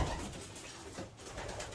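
Pigeons held in a trap coo softly and repeatedly nearby, with low murmuring calls over light background noise.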